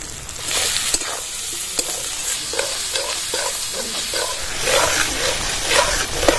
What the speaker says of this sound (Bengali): মশলাটা এবার ভালো করে কষিয়ে নেব।